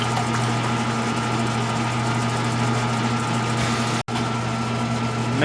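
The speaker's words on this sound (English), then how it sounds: "All the time the mixer is mixing in first speed." Mixer running steadily at first speed while mixing protein bar batter with eggs, a constant motor hum with a steady tonal whine and a brief dropout.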